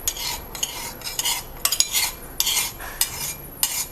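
A metal spoon stirs creamer into an iced avocado coffee, a close, bright clinking and scraping against the glass in quick irregular strokes, heard alone without talk.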